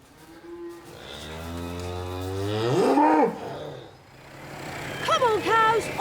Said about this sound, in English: Come on, cows, on you go.